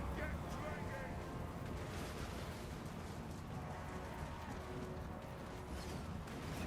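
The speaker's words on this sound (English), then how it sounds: "Anything that comes anywhere near us gets riddled with Thunderer fire." Dwarf Thunderer handgun volleys in Total War: Warhammer 2, a dense, steady crackle of massed gunfire with rumbling battle noise throughout, quiet and distant, with a voice talking over it.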